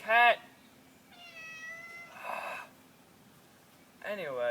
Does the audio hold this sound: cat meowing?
yes